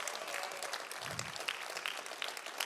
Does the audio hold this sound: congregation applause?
yes